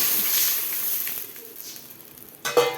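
Spices sizzle and hiss in hot oil while being tempered for a village-style okra buttermilk curry, a steady close crackle that fades and then flares up sharply near the end.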